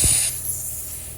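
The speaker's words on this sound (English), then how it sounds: "So handy having air compressors on tractors." A short sharp burst of compressed air from a tractor's onboard air compressor, loud at first, then trailing into a steady softer hiss over a low background hum.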